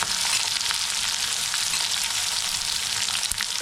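Garlic, curry leaves and onion frying in a hot pan, a steady close hiss and crackle of sizzling oil throughout, with no talk.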